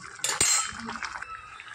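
A spoon clinks and scrapes against a pot while spinach kootu is stirred, a few sharp metallic knocks followed by softer scraping, close and brief.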